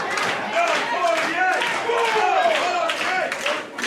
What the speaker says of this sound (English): Crowd more than likely cheering for both of these guys